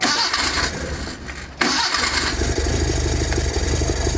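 An old Bedford Rascal van engine, unstarted for six years and running on stale fuel with full choke, cranks roughly, drops out for a moment, then catches and settles into a loud, steady, throbbing idle up close.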